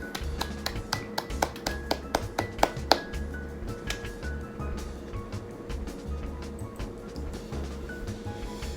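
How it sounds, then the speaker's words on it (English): Sharp, separate hand claps ring out near and loud, about a dozen in a quick run over the first three seconds, then fade into a soft steady background with no voices. "I want to go ahead and give you a round clap of applause"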